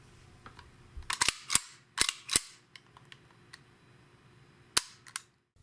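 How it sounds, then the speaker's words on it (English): Sharp metallic clicks and snaps from a Walther P5 pistol as it is reassembled and the slide released, several crisp close impacts in small clusters separated by quiet pauses, no talking. "then return the barrel catch to the locked position and release the slide"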